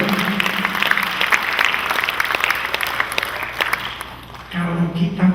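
Audience applause during a church sermon, a sustained wash of clapping across the whole stretch with a speaker's voice continuing over it.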